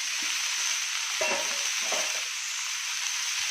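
Dried chili and curry leaves fry in a pan, making a soft, continuous hiss with a couple of brief stirring scrapes in the middle.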